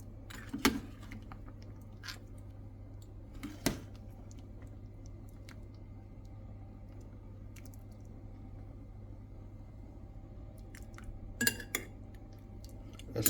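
A spoon scrapes and clinks against a pot as dumpling dough goes into mutton soup, with a few sharp metallic taps spread over a quiet background hum.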